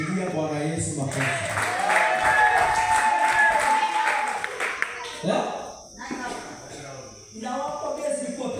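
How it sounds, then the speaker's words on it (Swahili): Church congregation clapping for Jesus during a Swahili sermon, sustained applause with scattered claps under a preacher's voice, fading out before talk resumes. "Pigia Bwana Yesu makofi."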